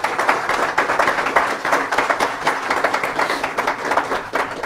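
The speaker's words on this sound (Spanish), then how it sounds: "Denle un aplauso al Señor." Congregation in a church service applauding, a dense, steady wash of many hands clapping that carries evenly through the whole stretch without any voices on top.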